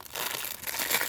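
Plastic bags crinkle and rustle continuously at close range, a dense crackling texture with no talking over it.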